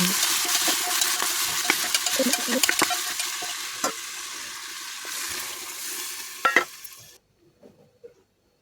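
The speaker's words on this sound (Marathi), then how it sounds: "त्यामध्ये सर्व भाज्या परतून घ्यायच्या. त्याचा कच्चापणा जाईपर्यंत मिक्स करायचं." Vegetables for pav bhaji sizzle in a pressure cooker while a spoon stirs them, a steady close frying hiss with scraping strokes, ending in a few knocks before near silence.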